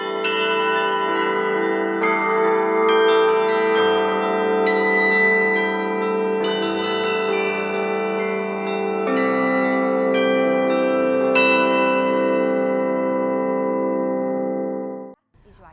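A church bell rings steadily and loud, its rich layered tones rising in repeated strikes and overlapping sustained ringing for about fifteen seconds before cutting off abruptly.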